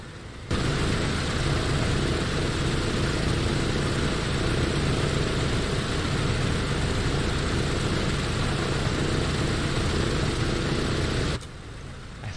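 The propeller engines of a DC-6 airliner in a flight simulator drone as a steady, dense roar that holds level for about eleven seconds before cutting off.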